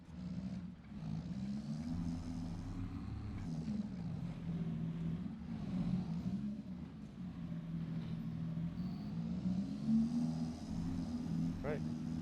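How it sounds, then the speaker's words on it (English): A farm tractor driven and backed up near a barn, a low chugging engine with a wavering pitch, steady and fairly close, with occasional faint other noises. "Bring this tractor right back down here. Backed up."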